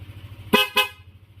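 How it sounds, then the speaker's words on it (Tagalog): A Korsa V3 snail-type dual car horn, newly fitted as a replacement, blasts two short, loud honks in quick succession over a faint engine hum. "Sa dual horn natin. Ayan, lakas."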